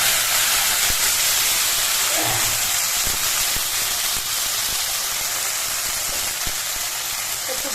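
Peanut paste hits a hot fried tempering in a pan and sizzles loudly and steadily, a close, dense hiss with a few light clinks, no talking.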